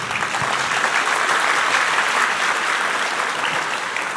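Dense, steady applause from a festival audience at the ceremonial opening of the Nowe Oświecenie festival at Ursynów's Alternatywy culture centre, sustained and even throughout without a break.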